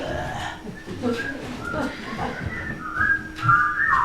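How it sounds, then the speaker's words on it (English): Someone whistles a few wavering notes over a busy background of voices and movement, the tune fairly close but partly masked. "No whistling!"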